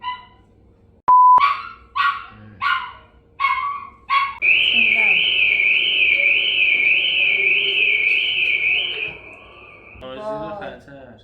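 A dog barks five or six times in a quick, loud series, then a sustained high electronic tone takes over, part of a guess-the-sound game, with chatter faintly underneath.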